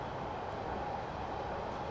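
Metropolitan Line train pulling away in Train Simulator Classic, a steady broadband rumble and rolling hum that holds evenly throughout, with no voices over it.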